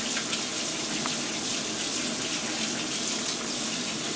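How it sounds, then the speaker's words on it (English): Tap water runs steadily and close by as a plate is rinsed under it at a sink, with an even, continuous splash and no break for the whole stretch. "I'm just going to rinse this plate because those were dirty, so I want to start fresh"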